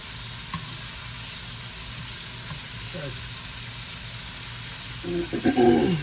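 Ribeye sliders doused in gravy sizzle steadily on a hot grill. The frying hiss runs continuously, then swells into louder, crackling bursts near the end as the patties are flipped.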